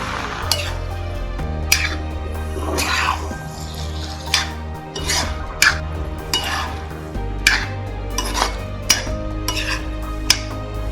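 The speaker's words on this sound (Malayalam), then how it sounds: "കക്കയിറച്ചി ഇട്ടിട്ട് നന്നായിട്ട് വഴറ്റണം." Clam meat sautéing in a pan with a steady background sizzle, punctuated by repeated metallic scrapes and taps of a spoon stirring, loud and close.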